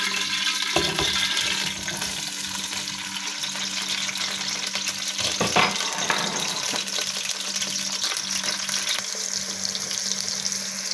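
Chopped onions, garlic and ginger fry in about a cup of hot oil for biryani, giving a steady, dense sizzle with occasional stirring scrapes and no voices.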